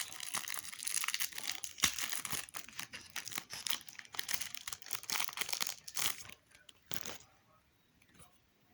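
A football trading card pack wrapper is torn open close to the mic, giving several seconds of dense crinkling and tearing crackles that thin out and stop near the end.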